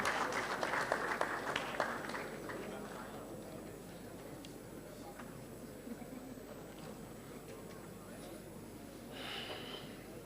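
Audience clapping at a Ghana Navy Memorial Day ceremony, a burst of applause in the first couple of seconds that fades into quieter crowd murmur and voices in a large outdoor or hall setting.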